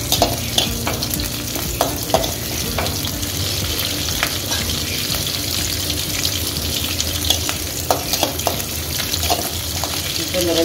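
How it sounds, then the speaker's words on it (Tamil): Chicken pieces sizzle steadily in a frying pan for chilli chicken while a spoon stirs them, giving repeated scraping clicks over the constant hiss. "இப்போ கொஞ்சம் நல்லா பொரியிற வரைக்கும் கிண்டி விட்டுருவோம்."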